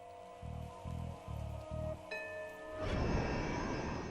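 Heavy pouring rain over Dubrovnik on the Adriatic coast breaks in as a dense, loud hiss in the last second or so, following a few soft rhythmic pulses and faint tones.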